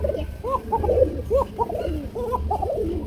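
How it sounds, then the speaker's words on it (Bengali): Pigeons cooing at a dealer's bird market, repeated soft rolling coos in overlapping rhythm, close and moderately loud over a low background hum. "এই চমৎকার একদম পুতুল লেভেলের কবুতর"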